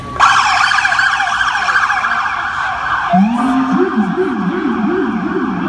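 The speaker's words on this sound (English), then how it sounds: "I want to respect you to hear your question and not hear their sirens" Loud emergency sirens wail nearby, one sweeping high and steady, then a second, lower siren joins with a rapid rising-and-falling yelp.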